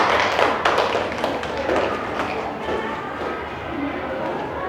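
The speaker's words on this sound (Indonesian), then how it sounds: "Kita tepuk tangan ya." A school class claps for a student group's performance at a teaching practice session: uneven, fairly loud hand claps and taps mixed with crowd noise and talking, the clapping thinning out toward the end.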